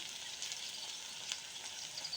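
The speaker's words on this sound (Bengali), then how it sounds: "কড়াইতে পরিমাণ মতো তেল দিয়েছি তারপরে পেঁয়াজ কুচি এলাচি দাসচিনি তেজপাতা দিয়ে দিলাম" Chopped onion, cardamom, cinnamon and bay leaf frying in oil in a wok while liver bhuna is being cooked, a steady bright sizzle throughout with small crackling pops, close and moderately loud, no talking.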